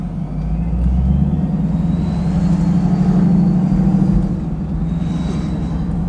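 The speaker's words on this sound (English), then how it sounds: "This sounds so cool too." A supercharged Chevrolet Camaro SS with a Procharger drives steadily on the road, its engine holding a loud, smooth drone with a thin supercharger whine riding above it, swelling slightly and then easing.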